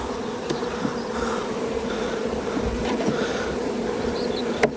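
Dense, steady buzzing of honeybees around a hive during a colony transfer from a six-frame to a twelve-frame hive, a continuous close drone with occasional louder passes of individual bees.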